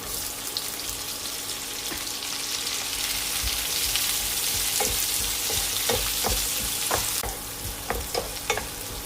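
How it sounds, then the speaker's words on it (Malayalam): Cubed onion fries in a hot pan with a constant loud sizzle. Sharp clicks and scrapes of stirring come toward the end, and no one speaks. "ഇതിലേക്ക് ഒരു വലിയ സവാള ക്യൂബ്സ് ആയിട്ട് അരിഞ്ഞത് ചേർക്കാം."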